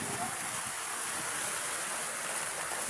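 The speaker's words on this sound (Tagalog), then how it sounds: "Lakas ng ulan, no?" Heavy rain pours steadily on a hut shelter behind a burned college building in New Washington, Aklan, a dense constant hiss filling the whole clip with no break.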